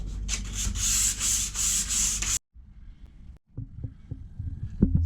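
Boat cockpit window frames being sanded in a steady, loud abrasive rasp with rhythmic strokes for about two seconds, then it stops abruptly, leaving faint handling knocks and small thuds nearby.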